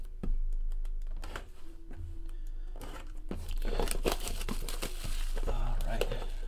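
Leaf Metal Draft baseball card boxes being opened and unwrapped up close, with steady crinkling, tearing and rustling of wrapper plastic and cardboard, plus scattered clicks and crunches throughout.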